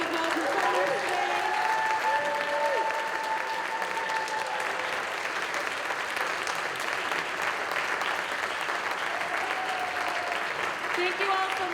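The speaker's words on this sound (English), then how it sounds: "Can we have one more round of applause for our incredible performers today?" Sustained audience applause for performers at an arts festival day event, steady and fairly loud across the whole stretch, with a few voices and cheers rising through the clapping.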